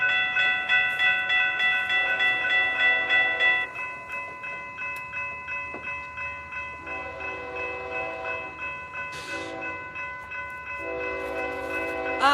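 FEC 105, a Florida East Coast freight train, sounds loud repeated horn blasts as it passes an activated railroad crossing, its rumble steady underneath and the horn close and piercing.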